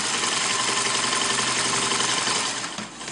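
Steady, close mechanical whir of a sewing machine stitching down the folded hem at a fabric end, a continuous buzzing run that slows and stops near the end.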